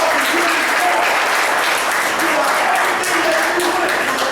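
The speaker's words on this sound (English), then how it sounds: "give yourself a round of applause for being alive" Sustained applause from a large crowd at a Newark, New Jersey event fills the room, dense and steady, with voices and cheers mixed underneath.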